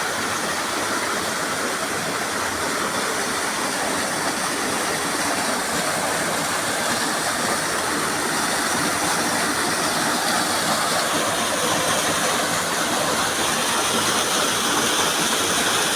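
Steady, loud, close rushing of a stream pouring over algae-covered rocks, a continuous broadband wash of water with no pauses and no voices.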